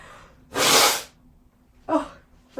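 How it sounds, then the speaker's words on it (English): One sharp, close sneeze bursts out loud, followed by a softer breathy exhale or second small sneeze in an otherwise quiet room. "I feel like I have to sneeze"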